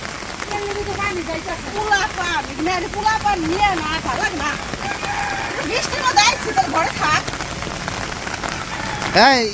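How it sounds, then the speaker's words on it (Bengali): Rain falls steadily on a village in Bangladesh during the rainy season, a continuous wash of drops on surfaces with a rooster and other birds calling clearly over it and a sharp knock near the end. "এমন একটা সময় বৃষ্টি নামলো, মানে একবারে মাথায় বাড়ি দিছে"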